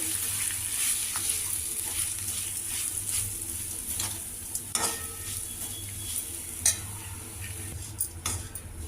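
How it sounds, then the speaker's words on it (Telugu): Grated coconut frying in a pan gives a continuous close sizzle and hiss, broken by occasional spoon scrapes and light clinks, steady and fairly loud throughout, with no talking. "కొబ్బరిని కూడా ఇలా వేయించుకుంటే బాగుంటుంది రుచిగా ఉంటుంది"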